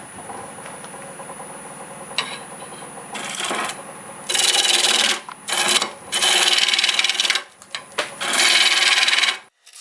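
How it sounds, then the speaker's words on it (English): A 5/8 bowl gouge cuts into black locust wood spinning on a lathe, making repeated loud scraping bursts of a second or two, separated by quieter gaps. "I'm going to switch to a 5/8 bowl gouge now and take some off here almost to that branch."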